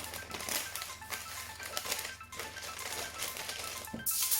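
Greaseproof paper and tin foil being loosely folded and scrunched around a jam roly-poly, giving close, continuous crinkling and rustling with sharp crackles, rising to a louder scrunch at the end.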